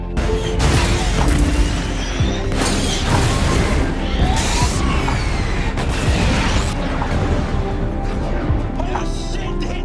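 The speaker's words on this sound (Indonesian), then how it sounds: "akhirnya berhasil membidik kedua kapal musuh dengan sangat akurat, hingga kedua kapal itu meledak hancur berkeping-keping." Two enemy warships blow apart in the 2012 film Battleship, with heavy booms, crashing bursts and rushing debris that hit repeatedly over a loud, rumbling action soundtrack.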